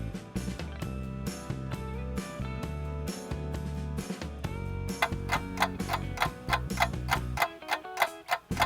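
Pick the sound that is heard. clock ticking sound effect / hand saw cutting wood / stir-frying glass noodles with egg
clock ticking sound effect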